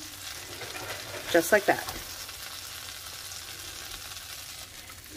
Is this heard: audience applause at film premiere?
no